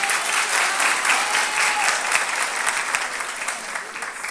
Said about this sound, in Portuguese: Salva de palmas pela vida dela.